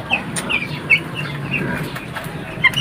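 Several chickens cluck and chatter close by, a busy run of short calls over a low background murmur.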